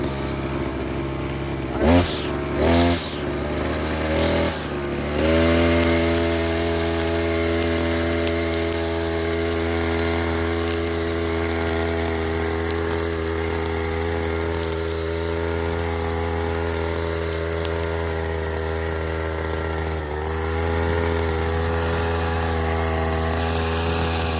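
A small lawn cutter engine drones steadily with a buzzing, harmonic whine, after a few brief revs at the start as it is started after a long idle; close and continuous, with no talking.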